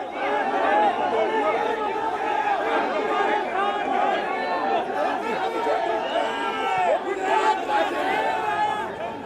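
Dense crowd chatter and shouting outside the Ahmedabad collectorate during a nomination filing, many overlapping voices forming a loud, continuous hubbub with no pause.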